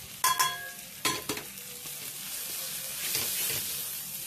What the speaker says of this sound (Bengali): সেটি আচ্ছা করে কষবো যতক্ষণ না তেল ছেড়ে দিলাম